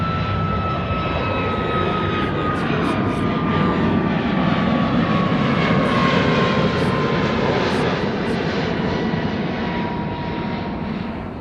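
At Honolulu airport, a jet airplane roars through a quick, steep takeoff, its loud, sustained engine rush filling the whole stretch with a faint whine gliding downward.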